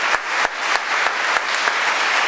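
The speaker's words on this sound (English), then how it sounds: "I don't know if you can hear the applause via my mic" Audience applauding at a pro-Palestine divestment conference after a guest speaker's talk: dense, steady clapping from a crowd, with sharp individual claps standing out throughout.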